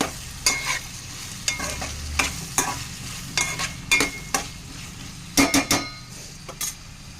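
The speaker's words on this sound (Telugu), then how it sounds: "సో ఇంక ఇందులోనే చికెన్ అయితే ఫ్రై చేసుకుంటున్నాను." Chicken pieces fry in a pan with cucumber pieces under a constant sizzle. A utensil stirs and scrapes against the pan in repeated bursts, close and clear, with no talking.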